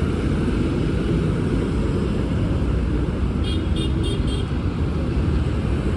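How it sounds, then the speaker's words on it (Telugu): A bus passing along a road amid car traffic, a continuous loud low engine rumble and tyre noise that holds steady close by, with a brief high tonal whine partway through. "బస్సు వస్తుంది."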